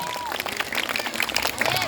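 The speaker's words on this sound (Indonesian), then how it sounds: "Tepuk tangan dulu." Contestants in a Ramadan quiz competition give a short burst of scattered clapping while people talk over it.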